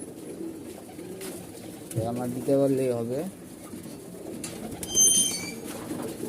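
A pigeon gives a soft, throaty coo partway through, with people talking nearby and faint rustling around it.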